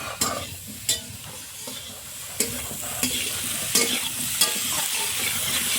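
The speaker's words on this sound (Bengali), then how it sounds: "হলুদ দিয়ে লাউটা ভালো করে ভেজে নেব।" Bottle gourd frying with turmeric in a pan, steady sizzling with repeated sharp scraping stirs of a spatula at irregular intervals, no speech.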